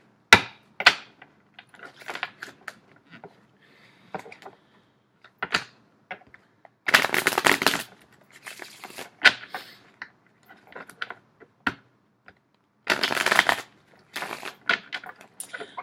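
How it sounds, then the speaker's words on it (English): Tarot cards being shuffled by hand, with bursts of riffling and soft card slaps and taps, some longer broadband flurries, heard close up with no talking. "So as I am shuffling the cards"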